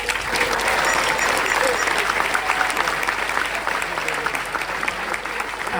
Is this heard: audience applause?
yes